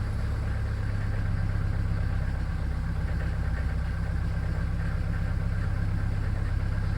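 A Mercedes 307d diesel van engine idles steadily after a cold start, a loud, even low rumble with constant vibration and no voices throughout.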